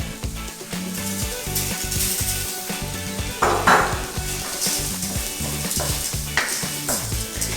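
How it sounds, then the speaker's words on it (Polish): Vegetables and rice sizzle and fry in a pan, with a steady, close crackle. A spatula scrapes and stirs through them in quick repeated strokes, and no one speaks. "Lekko to podsmażam"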